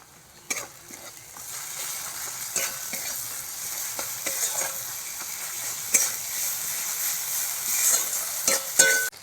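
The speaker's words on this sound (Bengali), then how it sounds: "এবার ভালো করে কষিয়ে নেব।" Ground spice paste with onion and garlic, including ginger, cumin-coriander paste, chilli powder, turmeric and salt, frying in a pan: a continuous close sizzle broken by sharp scraping and stirring strokes from a spatula, getting busier toward the end.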